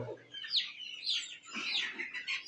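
Desi chicks and chickens on a poultry farm, with high peeping chirps and a few low clucks, close and moderately loud, overlapping in quick bursts.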